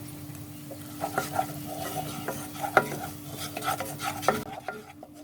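Spices with red chili powder and salt sauté in a pan for shrimp bhuna, a close, crackling sizzle punctuated by repeated scraping and clinking strokes of a spoon stirring against the metal.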